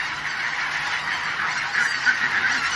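Geese honk from the reed forest of the Tigrovaya Balka reserve, a home to migratory birds. A dense, continuous chorus of calls carries at mid-distance and grows louder near the end.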